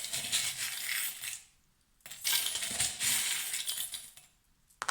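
Small divination charms clink and rattle against each other as they are shuffled, then scatter across a board in two bursts of jingling with a short pause between, close and fairly quiet.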